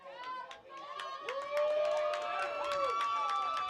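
Crowd noise at a women's rugby sevens match at the Canada Games, cheering from New Brunswick supporters under a commentator's voice, with whistles or high calls and a swell of cheering in the second half.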